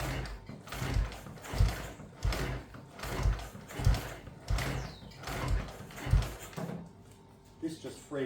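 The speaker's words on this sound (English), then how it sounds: "I've just got to kick it over to loosen up the piston" A 1951 Panther M100 600cc single-cylinder motorcycle being kicked over, giving about seven rhythmic low thumps at roughly one-second intervals, close and fairly loud, with mechanical clatter in between.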